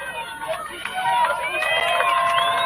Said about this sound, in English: Crowd making some noise for O'Gorman.